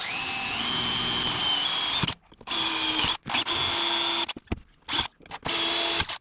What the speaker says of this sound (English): Always center punch and always pilot drill my holes.